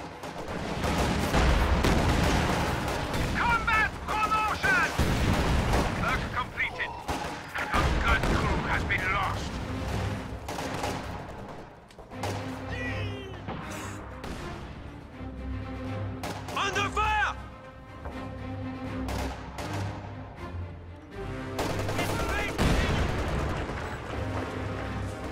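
Video game battle with BTR armored vehicles firing, a dense barrage of gunfire bursts and booming explosions sustained throughout, loud and cluttered, with a voice commentating over the action.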